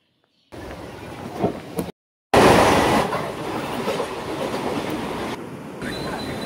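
Riding a Mumbai local train: steady close rumble and rhythmic wheel clatter from inside the coach, with brief cut silences early on and a sharper, louder stretch midway.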